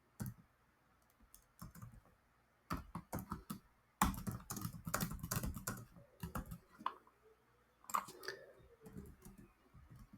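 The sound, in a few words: computer keyboard typing while writing code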